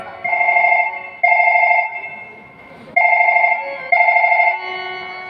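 An electronic phone ringtone trills loudly in repeated paired bursts, four rings separated by brief pauses, close and clear with only soft background noise between them.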